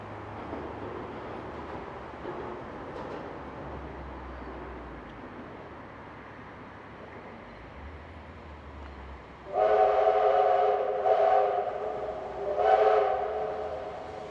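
A heritage steam locomotive pulls into a station bound for the Blue Mountains, its low rolling rumble giving way to loud steam whistle blasts, one long and then two shorter, with no talk.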